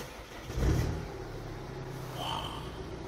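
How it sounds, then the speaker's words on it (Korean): A BMW 420d diesel coupe being started from inside the cabin: a brief low starter crank and catch near the start, followed by a quiet, steady diesel idle. "바로 시동 한번 걸어보도록 할게요."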